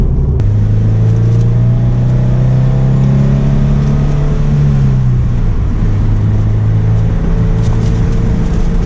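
A Subaru BRZ with a TOURING86 aftermarket exhaust drones steadily at low pitch, swelling briefly as it revs up, then settling back into a continuous rumbling freeway cruise.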